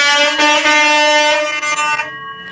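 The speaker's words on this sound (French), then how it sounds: "il a bien fait sonner le petit klaxon en plus." A small motorcycle horn sounds loud and close in steady, continuous honks lasting about two seconds before cutting off, at a motorcycle dealership during a live broadcast.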